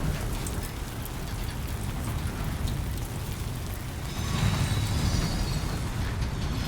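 Steady rain pours down in the video game Death Stranding 2, a dense, even hiss of drops on surfaces that swells slightly louder toward the end, with no talking.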